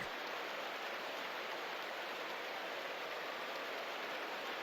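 Heavy rain pours down during a football video game, a steady, dense hiss that holds evenly throughout with no voices.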